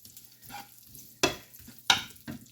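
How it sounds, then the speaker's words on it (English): Seven slices of pepperoni, each cut into eighths, frying in a pan with a soft sizzle, broken by a few sharp scraping stirs of a utensil against the pan. "So in this pan, I just put in 7 slices of pepperoni, and I've got them cut into 8s."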